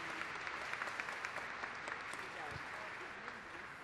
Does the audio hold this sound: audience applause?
yes